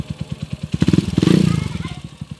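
A Honda TMX 155 motorcycle with a 175cc conversion revs near the microphone, its loud, rapid engine pulses swelling to a peak midway and then easing back to a steady idle beat.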